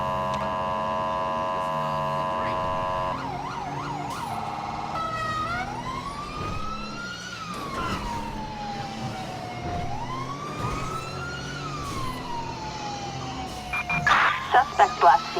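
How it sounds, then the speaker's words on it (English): Police siren tones in the GTA V LSPDFR game, cycling through several patterns: a steady pulsing tone, quick yelps, then long slow wails rising and falling, ending with a few short bursts, under a faint background hum. "if you hit B on the keyboard, you'll change your siren tones as well"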